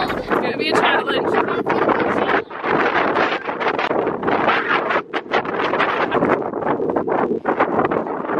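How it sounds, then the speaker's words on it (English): Strong, cold wind buffeting the microphone at 512 metres altitude in loud, continuous gusts with rustling, briefly easing a few times. "It's so windy and so cold!"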